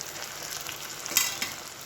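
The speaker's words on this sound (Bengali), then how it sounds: "পেঁয়াজটা ভাজা ভাজা হয়ে গেছে, এবার আদা বাটা একটু দিয়ে দেবো" Onions frying with ginger paste in a pan while the Bengali dish ghugni is being cooked, giving a steady soft sizzle with a few brighter crackles and a stir near the middle.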